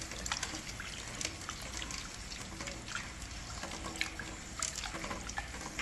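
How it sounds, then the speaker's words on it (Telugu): Soaked tamarind squeezed by hand in water, close soft squelching and trickling with small splashes, quiet and continuous. "మనం నానబెట్టుకున్న చింతపండు బాగా పిసుక్కోవాలి."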